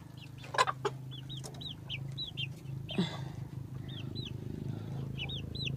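Many chickens clucking and chirping nearby in a steady, busy chorus, with brief louder squawks and background farm noise.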